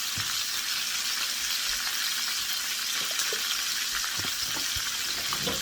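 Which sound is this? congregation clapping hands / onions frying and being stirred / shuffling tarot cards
onions frying and being stirred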